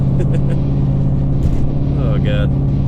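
A Dodge Challenger R/T with longtube headers drives along, its exhaust giving a loud, steady, droning low rumble close up inside the cabin, with faint traffic and a voice briefly audible over it.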